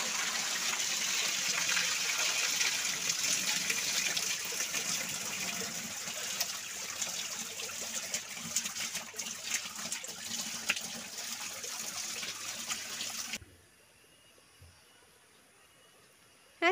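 Abundant clear water gushes steadily at a public toilet, a constant rushing flow that stops abruptly near the end and leaves faint background quiet.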